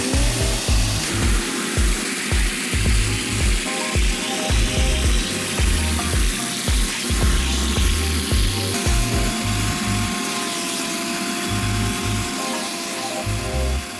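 A carpet extractor works over a car's interior carpet: a steady, loud mechanical drone runs throughout, with low, rhythmic churning pulses from scrubbing passes and no talking.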